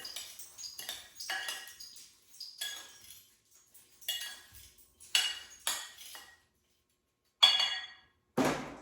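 Strawberries stirred in a bowl with a metal spoon: a run of light clinks and scrapes against the dish, spaced irregularly with short pauses, close by and fairly quiet, with no voices.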